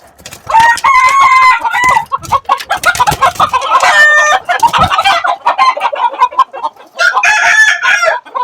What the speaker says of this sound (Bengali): খুব রিয়েল একটা মুরগ আছে।